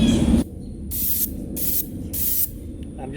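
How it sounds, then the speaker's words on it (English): Black acrylic latex paint sprays onto a tombstone prop in three or four short, even hissing bursts, close and loud, over a steady low background hum. "I'm going to spray so it gets caught in all the deep recesses like the eyes, nose, between the teeth"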